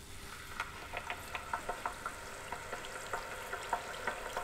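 Mathri dough pieces drop into hot oil, giving a soft, steady sizzle with scattered light crackles and pops spread evenly throughout, close by and fairly quiet, with no voices.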